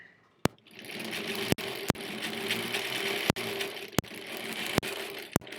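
Sewing machine stitching foundation paper piecing for a quilt, running in a steady close whir that stops and restarts with sharp clunks as it switches between backward and forward stitching, with no speech.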